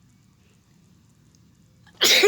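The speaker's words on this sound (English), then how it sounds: "Sneezed on the tablet." One sudden loud sneeze bursts out close to the microphone after near silence.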